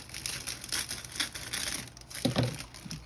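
Wrapping material being cut down for a DIY gift basket, giving soft crinkling, rustling cellophane-like sounds with a few sharper snips near the end, close and fairly quiet, with no talking.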